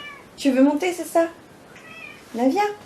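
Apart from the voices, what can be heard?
pet cat meowing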